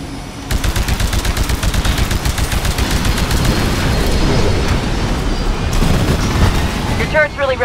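An automated turret in Titanfall's Frontier Defense mode on the Overlook map fires at enemy forces in sustained rapid bursts, loud and close, blended with booming impacts and other battle noise throughout.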